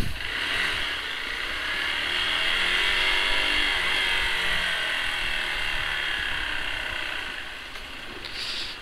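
A vehicle engine revs hard while driving at night on a rural road past Tenkasi, a sustained loud drone that swells and holds steady, easing slightly near the end.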